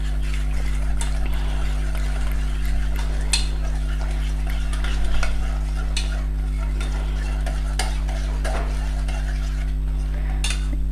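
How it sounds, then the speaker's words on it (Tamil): Pineapple jalebi batter stirred in a bowl makes repeated wet scraping and clinking strokes of a spoon against the bowl, close and irregular, over a steady low background hum. "அதெல்லாம் வந்து மிக்ஸ் பண்ணிக்கோங்க. இன்னும் கொஞ்சம் தண்ணி சேர்த்துக்கலாம்."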